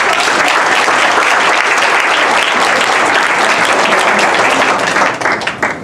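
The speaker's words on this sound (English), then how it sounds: "Give her a round of applause" Loud, dense audience applause at a talk event for a guest, a sustained roar of many clapping hands that thins into a few scattered claps at the end.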